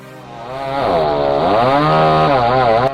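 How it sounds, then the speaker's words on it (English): A chainsaw cuts through dense wood during logging work, a loud, close engine roar that rises in pitch and wavers steadily as the chain bites, alone with no talk. "The chainsaw roars as it bites through dense wood."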